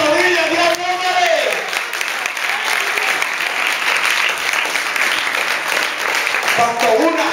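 A church congregation applauds loudly for several seconds, steady dense clapping, with a preacher speaking briefly at the start and end.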